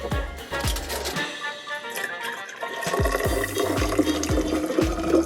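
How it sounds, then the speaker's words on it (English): Liquid crystal mixture pours and splashes into a plastic water bottle, a steady liquid gush with repeated low thumps and sloshing close by, no talk over it. "We're going to pour our mixture inside of this."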